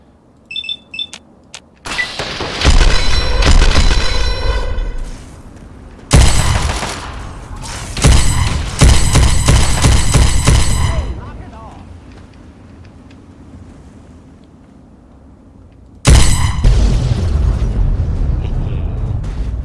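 Gunfire and explosions in Fallout 3 during an Enclave attack, several loud bursts of rapid shooting and booming blasts separated by quieter gaps.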